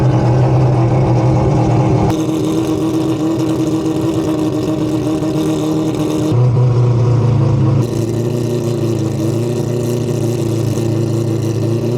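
A turbocharged four-rotor rotary car running in rear-wheel drive holds a loud, steady, droning engine note throughout, with slight shifts in pitch and two brief changes in tone, alone without talk.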